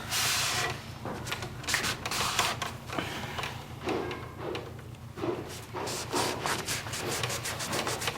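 A rag scrubs dried glue out of the inside corner of a custom wooden cabinet, giving soft, close rubbing strokes with faint knocks of the cabinet in between.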